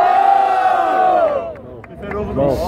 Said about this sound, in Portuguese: Barulho pras rimas do Luquinha